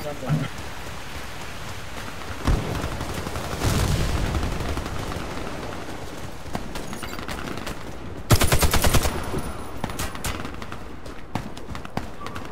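Rapid bursts of video game gunfire from a shooter, a few loud volleys standing out against a dense crackling background, with voices talking over the action.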